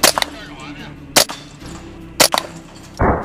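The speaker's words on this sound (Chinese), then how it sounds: "CZ512 半自动步枪。" A CZ 512 semi-automatic rifle fires at an outdoor shooting range, with three sharp close reports spaced about a second apart and a rustling handling noise at the end.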